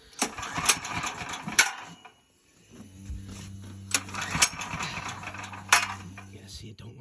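Gasoline generator engine converted to dual-fuel propane, cranking over and over but failing to start on gas alone; repeated loud starter bursts with a low mechanical rumble between them, close by.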